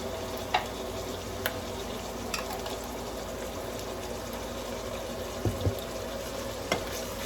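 Bottle gourd and tofu sautéing in a pan, a steady low sizzle with a few sharp clicks and scrapes of a utensil stirring, close and alone with no talking.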